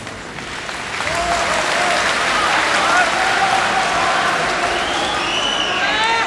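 A large audience applauds during a public religious debate, a dense, loud, continuous roar of clapping that swells early and holds steady, with faint whistles or cheers mixed in.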